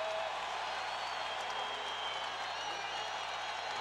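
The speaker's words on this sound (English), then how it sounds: "And listen to the crowd in Hilton Coliseum." Basketball crowd in Hilton Coliseum in Ames during an Iowa State vs Kansas game, a dense, sustained roar of cheering and applause filling the arena at steady loudness throughout.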